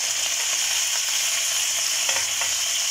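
Meatballs frying in a hot pan give off a steady, loud, close sizzle with faint scraping and stirring clicks throughout, and no voices.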